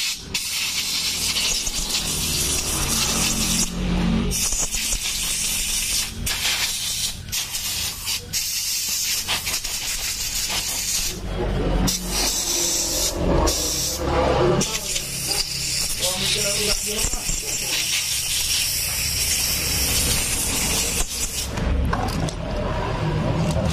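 Aerosol spray hissing steadily over Yamaha NMAX scooter parts during a double-start clicking repair, a continuous broadband hiss running nearly the whole time with brief pauses, with workshop voices talking over it.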